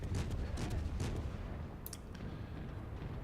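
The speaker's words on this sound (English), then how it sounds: "Hopefully I will be able to get a nice broadside into this destroyer." Warship main guns firing a salvo at a destroyer in the naval video game World of Warships, several heavy booms rolling in close succession and then settling into a low rumbling tail.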